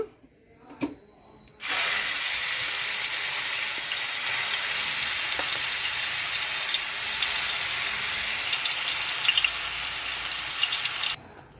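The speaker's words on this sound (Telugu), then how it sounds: "ఆయిల్ వేడి అయిందండి ఇప్పుడు ఈ మసాలా ఆడుకున్నాం కదా మనం మసాలా ముద్ద వేసుకుందాము" Masala paste for a grass carp fish curry drops into hot oil and sets off a loud, continuous sizzle. The sizzle holds steady for about ten seconds, then cuts off abruptly.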